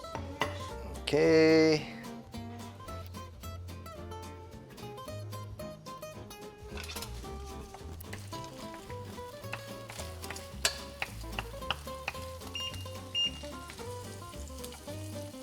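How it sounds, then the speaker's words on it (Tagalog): Scrambled eggs sizzle and fry in an oiled frying pan, a steady close crackle with occasional utensil scrapes while a person speaks briefly and a background voice comes and goes. "I'm cooking eggs."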